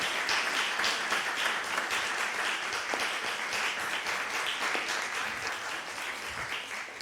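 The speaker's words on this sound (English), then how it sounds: "Let's give a round of applause for Soren." An audience at an intergenerational church service applauds a performer with continuous, moderately distant clapping that holds steady for about seven seconds at a soft level.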